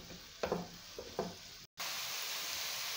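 Onion, pepper, carrot, coriander, parsley and grated zucchini stirred in a hot pan sizzle up close, with a few soft scraping stirs, a brief dropout, then a steady frying hiss.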